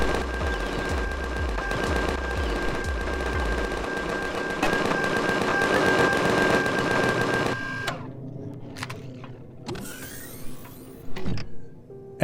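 Minigun turrets on an Adder hover vehicle blasting at arachnids in Empyrion: Galactic Survival, a loud sustained rapid-fire rattle for several seconds that cuts off abruptly, followed by scattered thuds and clanks.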